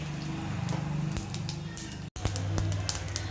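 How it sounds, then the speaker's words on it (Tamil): Mustard seeds spluttering in hot oil while tempering for a tomato coconut rasam, a dense crackle of quick pops and sizzle close up, with a brief break partway through. "கடுகு பொரிஞ்சிடுச்சு."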